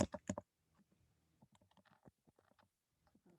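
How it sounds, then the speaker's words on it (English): Fingers tap on a computer keyboard in quiet, irregular clicks. A few louder keystrokes come at the start, then softer scattered taps follow in a hushed room. "I have almost finished typing"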